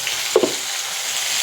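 Dried red chillies fry in a pan with other tempered spices, giving a steady, soft sizzle with one brief louder crackle early on, close and alone.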